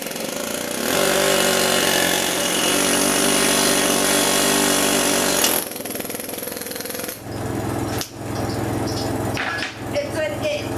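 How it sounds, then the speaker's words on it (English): A pneumatic air hammer rattles continuously and loudly while driving the pinion out of a Dana 60 axle, a steady dense hammering for about five seconds, then shorter bursts with pauses and clanks toward the end. "we're going to use an air hammer, and we're going to have seat cover catch the pinion"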